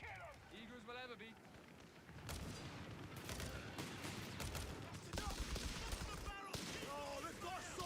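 Gunfire in the Company of Heroes video game, with rapid bursts and scattered shots swelling into a sustained battle din, while voices shout over the fighting.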